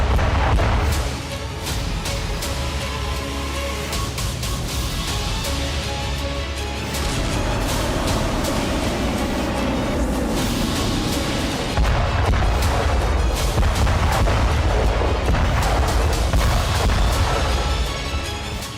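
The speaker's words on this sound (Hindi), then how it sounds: "ये विस्फोटक हैं क्लस्टर बम।" Cluster bombs in the Ukraine war: loud, continuous rumbling booms and rapid crackling blasts blend into heavy bombardment. Bursts swell and overlap throughout, with no one speaking.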